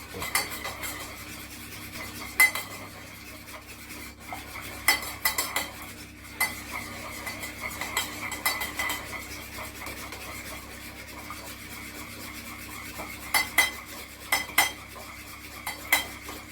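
Spoon stirring a balsamic vinegar dressing in a bowl, a soft, steady scraping and swishing with occasional sharper clinks against the side.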